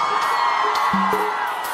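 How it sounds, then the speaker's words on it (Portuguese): Married women in a big concert crowd at a show at Planeta Atlântida 2017 scream and whoop. It is a dense, steady roar of shrill voices throughout, with scattered higher yells on top. "E o grito das mulheres casadas."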